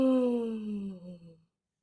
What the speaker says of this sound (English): Then work that into a yawn.